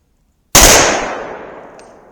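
A single loud gunshot from a Glock 23 pistol fitted with a 4-inch .357 Sig barrel cracks after a moment of silence, then rings out and fades over roughly a second and a half.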